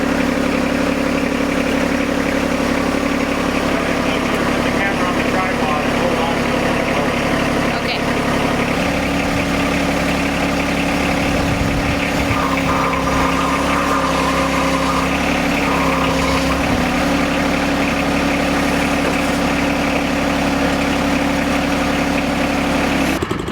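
A John Deere 1025R compact tractor pulling a Bluebird sod cutter runs slowly across a lawn, its steady engine hum and idle-like drone continuing throughout, with shifting mechanical rumble in the middle and voices partly over it.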